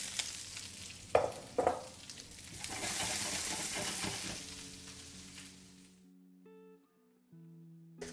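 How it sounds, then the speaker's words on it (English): Spinach and garlic wilting in a hot pan give a loud, bright sizzle with a few stirring clanks, then the sizzle fades out and soft music tones take over. "we're just wilting our spinach quickly here in the pan"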